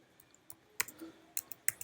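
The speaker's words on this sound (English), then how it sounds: "So let me type the command" Typing a command into a Linux terminal on a computer keyboard while setting up a firewall exception: sparse, quiet key clicks in small clusters, fairly close, with no talking.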